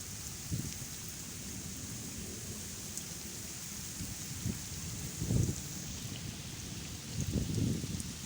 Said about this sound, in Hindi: ये इतनी बारिश हो रही है